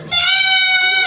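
A person's voice imitates the bleat of a small, young goat, a single sustained nasal bleat lasting about a second, loud and close, with no other sound around it.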